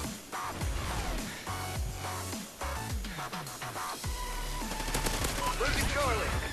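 Sustained automatic gunfire from a gun in Call of Duty Ghosts, with repeated rapid bursts and booming low impacts over several seconds, loud and close, with some faint talk underneath.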